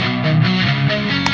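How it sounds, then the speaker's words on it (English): A heavily distorted guitar amp tone from the Plug-in Alliance Rock Rack plays alone, thick and sustained with a few shifting chord changes over just over a second. "You can hear there's distortion now,"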